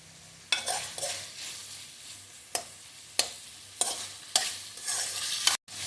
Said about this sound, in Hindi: पाँच मिनट अच्छे तरीके से हमने इसकी भुनाई कर लेनी है।